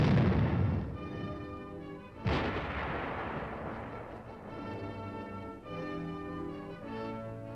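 An armored vehicle's main gun fires direct fire, with two heavy booming blasts, one at the start and another a couple of seconds later. Each blast trails off into rumbling echoes, with a low mechanical drone underneath.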